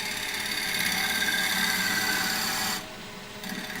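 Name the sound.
gouge cutting a wooden bowl on a lathe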